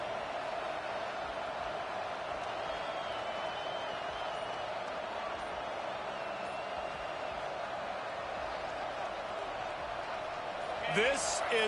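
Steady roar of a stadium crowd at a college football game between MSU and Washington, a broad continuous wash of cheering that holds level throughout with a brief louder clatter near the end.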